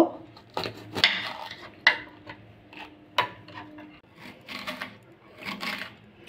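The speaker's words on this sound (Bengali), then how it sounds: "এবার ক্যাপসিকামটা কেটে নেব।" A knife chops capsicum on a board in a home kitchen, producing sharp irregular taps and clacks of blade and utensils, close and alone without talk.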